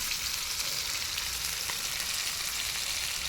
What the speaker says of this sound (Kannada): ಇವಾಗ ಫಿಶ್ ಕೂಡ ಫ್ರೈ ಆಗಿದೆ ನೋಡಿ